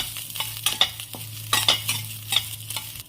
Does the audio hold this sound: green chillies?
yes